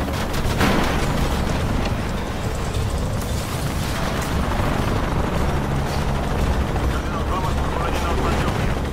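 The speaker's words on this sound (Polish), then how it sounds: "O, helikopter jeszcze." A helicopter in the video game Shadow of the Tomb Raider gives a loud, dense rotor roar mixed with rumbling booms and bursts of gunfire, with no voices.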